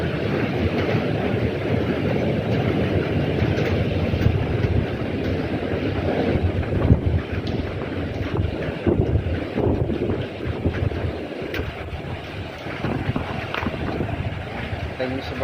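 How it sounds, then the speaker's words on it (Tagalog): Strong, gusty typhoon wind roaring continuously against the microphone, with a constant rumble and no clear voices. "Medyo malakas na rin ang hangin."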